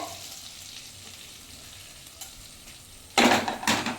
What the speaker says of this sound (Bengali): আস্ত জিরেটা দিয়ে ভালোভাবে একটু নেড়ে চেড়ে নেবো।